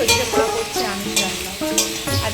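A non-vegetarian curry fries and is stirred in a pan at home, with sizzling broken by clanks of a utensil against the metal and tonal scraping strokes over a few seconds.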